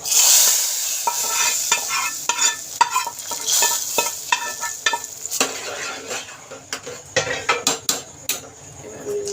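Pumpkin pieces frying in a pan while being stirred, with a soft sizzle under repeated scraping and clinking of a metal spatula against the pan, the strokes coming in uneven bursts.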